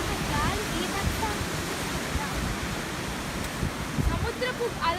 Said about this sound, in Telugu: సముద్రపు అలలు